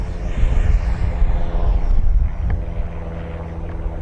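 An X-FLY T-7A 64mm electric ducted-fan RC jet making a fast pass, a loud rushing jet whine that rises and sweeps past, then fades into a lower roar.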